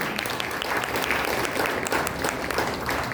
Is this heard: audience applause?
yes